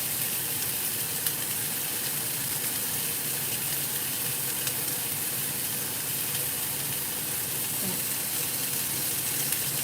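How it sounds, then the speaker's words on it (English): Beef skewers sizzle on a grill in a constant, even hiss of frying that holds at a steady moderate level with no talk. "You hear sizzling so good, okay?"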